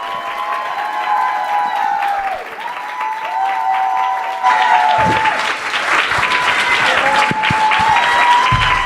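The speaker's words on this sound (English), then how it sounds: "let's please give a warm round of applause to our featured guest" Audience applause at an author talk in Arlington welcoming the featured guest, with cheering and whistles over steady clapping that swells midway and continues for the whole stretch.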